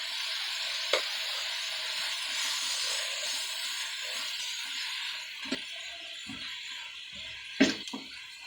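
Onions sizzle and hiss in a hot pan while being sautéed for a kara boondi gravy, a steady frying hiss broken by a few sharp clinks of a spoon against the pan.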